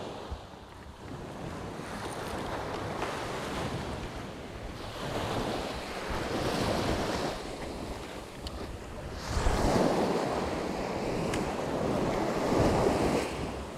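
Ocean surf rolls and breaks along a shore during coastal squid fishing, a steady wash of waves with swelling surges, mixed with buffeting wind noise against the microphone.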